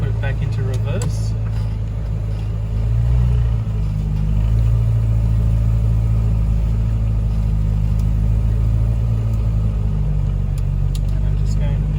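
A Rover P4 saloon's engine idles and rumbles steadily at close range as the gear stick is moved into reverse, with a continuous low drone throughout.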